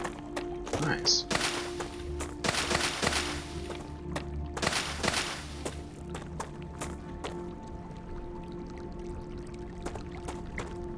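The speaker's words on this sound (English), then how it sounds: "Sounds like there's running water over there." Running water in the game StarRupture, a soft steady wash under repeated sharp clicks and thuds, with a few louder splashing bursts early on.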